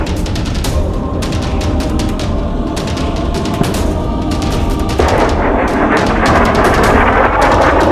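Apache attack helicopter weapon fire in the field: dense, continuous rattling bursts of cannon fire with sharp repeated cracks, loud and sustained, growing heavier partway through.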